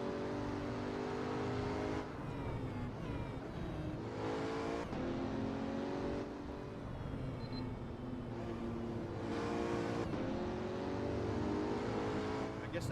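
A high-pitched Pagani supercar engine in a VR driving game set in Japan revs and shifts repeatedly, rising and falling in pitch, loud and close throughout with no talking.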